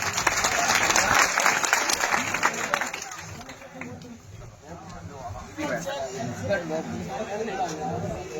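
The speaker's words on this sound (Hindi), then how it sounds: "सबके लिए जोरदार तालियां बजाओ।" Loud, dense applause from a crowd at a Bhim Army political rally fills the first few seconds, then thins into scattered claps and murmuring crowd chatter.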